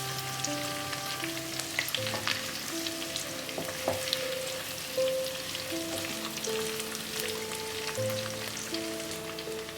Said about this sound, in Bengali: এই সবগুলোই একটু ভালো করে ভেজে নিতে হবে।